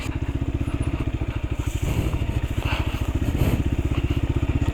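A trail bike motorcycle bumps over potholes on a rough road, its engine thumping in a fast, even rhythm up close, with clattering jolts from the rough surface mixed in.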